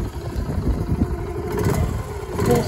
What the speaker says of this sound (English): Starts first kick. A very, very quiet engine,